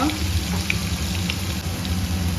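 Sliced eggplant strips, soaked in water, hitting hot oil in a pan set up a steady, close sizzle that holds level and continuous throughout, with no voices over it.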